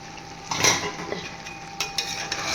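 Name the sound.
stirring mutton curry with cashews in a pot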